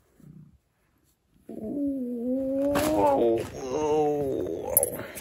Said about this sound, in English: Whoa, he's a quick little kitty,